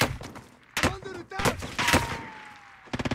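Warzone gunfight with several loud, sharp gunshot bursts scattered across the moment and a quick rattling volley at the end, close and punchy, with other game noise between.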